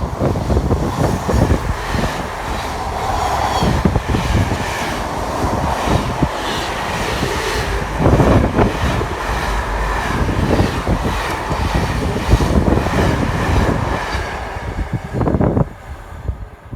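Freight train hauled by Class 66 locomotive 66423 rumbles loudly and continuously through Nuneaton station, with wagons clattering past and wind buffeting the microphone.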